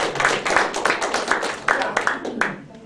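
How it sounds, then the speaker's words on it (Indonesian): Congregation clapping at a church sermon, quick rhythmic handclaps close and fairly loud, with voices talking over the clapping. "Berikan tepuk tangan."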